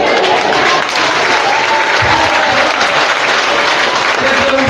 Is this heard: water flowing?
no